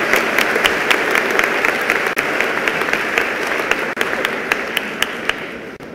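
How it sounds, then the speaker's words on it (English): Audience applause at a high school Veterans Day program, a steady, dense wash of clapping from a large crowd that holds strong for about six seconds with no voices over it. "can we please give you just one more round of applause?"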